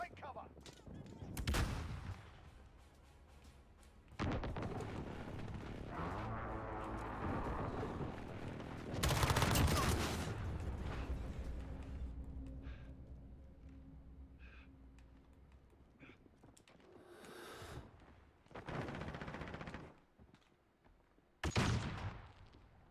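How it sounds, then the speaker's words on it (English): Call of Duty gameplay with bursts of gunfire and heavy explosive booms from a precision airstrike, scattered blasts spread over the stretch with quieter rumbling between them. "Enemy precision airstrike."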